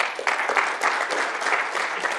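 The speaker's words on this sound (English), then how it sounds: "Give yourselves a round of applause." Tech conference audience on Django and Drupal breaks into a round of applause, brisk dense clapping that starts abruptly and holds steady and fairly loud.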